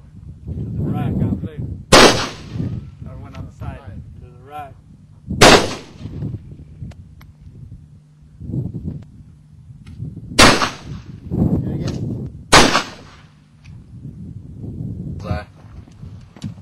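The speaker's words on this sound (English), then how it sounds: "That's the assault rifle." Assault rifle shots are fired at a target during a stress test, five or six sharp, loud single cracks spaced a few seconds apart, with people talking between the shots.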